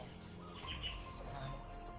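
A bird calls with a few brief, high chirps, faint and somewhat distant, over a steady background hum with no talking.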